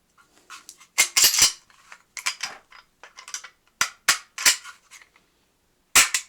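Sharp metallic clicks from an HK USP pistol as its ambidextrous safety, decocker and trigger are worked, coming in small close bursts separated by silence.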